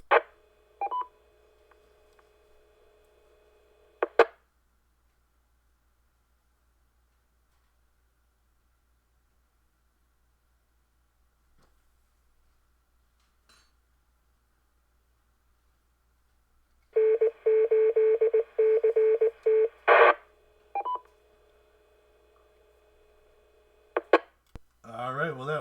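Radio station ID transmission tones: short bursts of electronic beeps and a rapid warbling tone sequence, separated by long near-silent stretches with faint static.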